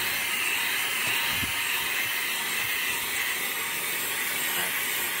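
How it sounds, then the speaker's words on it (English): A Fanttik Slim V9 cordless vacuum cleaner runs continuously at close range, a steady high-pitched whine and hiss of suction with a few faint bumps as it moves over the surface. "so I'm gonna just vacuum up this whole thing"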